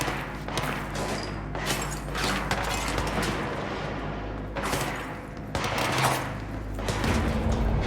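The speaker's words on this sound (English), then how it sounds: "I can hear gunfire out there." Distant bursts of gunfire echo in the video game Control, irregular volleys and thuds with a mechanical hum between them, and no voices.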